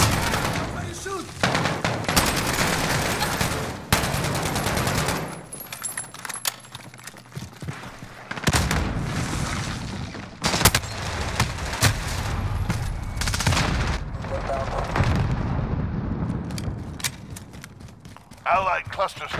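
Automatic SCAR rifle fire in a Modern Warfare match, loud repeated bursts with short pauses and reload clatter between them, mixed with game effects and occasional voice callouts.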